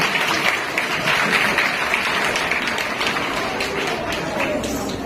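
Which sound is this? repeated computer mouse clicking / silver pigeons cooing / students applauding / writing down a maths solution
students applauding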